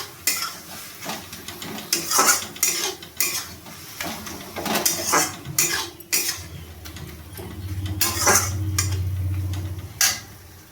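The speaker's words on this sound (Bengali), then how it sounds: "এর মধ্যে এবার চিকেনটা দিয়ে দেবো। চিকেনটা দিয়ে আবার ভালোভাবে কষিয়ে নেব।" Chicken stir-fried with spice masala in a pan for egg chicken chowmein, with repeated metal spatula scrapes and clanks against the pan over a low sizzle and a steady hum, close and busy.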